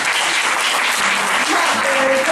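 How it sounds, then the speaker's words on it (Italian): An audience at a live singers' show applauds the performers in a loud, dense, continuous ovation that fills the whole moment, with a faint voice barely audible underneath. "facciamo un applauso ai ragazzi"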